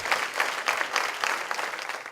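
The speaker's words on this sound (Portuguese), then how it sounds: "Dê um aplauso a Jesus por isso." A church congregation claps together during a worship service, a moderate, slightly pulsing round of applause that keeps up for a couple of seconds without voices.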